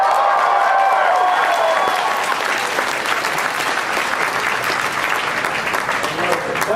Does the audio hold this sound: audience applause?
yes